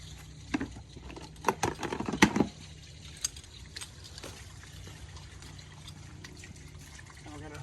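The black tank of a 2019 Zinger ZR280BH RV drains at a dump station, with sloshing and gurgling water and a few louder splashes early on, then a steady trickle.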